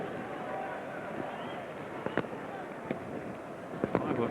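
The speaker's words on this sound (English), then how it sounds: "Fireworks blasting off all around us here." Fireworks burst around a football stadium during a League Cup match, scattered sharp cracks and pops at a distance over a constant crowd hubbub, with commentary going on underneath.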